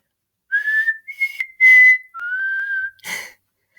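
A person whistles a short run of clear tonal notes, some held and some sliding, with breathy attacks between them, close and loud.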